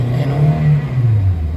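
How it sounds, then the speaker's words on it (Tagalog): A Toyota Avanza with low power and a delayed throttle revs its engine up close, producing a loud, sustained drone whose pitch climbs slowly and then sags. "Ayan, yung galit ng makina na siya delay"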